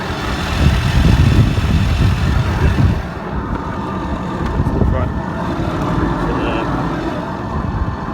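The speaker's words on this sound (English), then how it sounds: "So just a bit noisy on the back axle" A Sinclair C5 electric trike runs with a steady whirring drone and a noisy back axle, close by and continuous, with a person talking over it.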